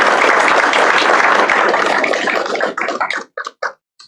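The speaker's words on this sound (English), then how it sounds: "let's give Chafin a round of applause" A dense round of applause at a career and technical college signing day, loud and steady, then thinning into a few scattered final claps before stopping.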